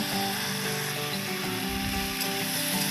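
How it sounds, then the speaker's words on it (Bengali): Spices fry with potatoes and pumpkin in a pan, making a continuous dense sizzle with faint scraping and rattling as the mixture is moved, close and fairly loud, without speech. "এবার মশলা দিয়ে দেব"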